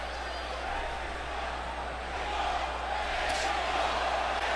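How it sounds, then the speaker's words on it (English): Boxing crowd at the Canelo Alvarez vs. Austin Trout unification bout: a steady, dense arena roar that swells slightly, with crowd voices blending throughout rather than one clear chant. "And the crowd, Mexico, Mexico, Mexico."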